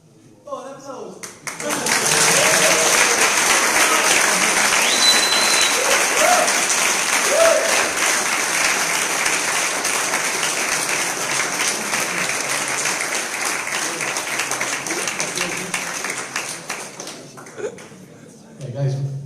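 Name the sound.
audience applause after a tech talk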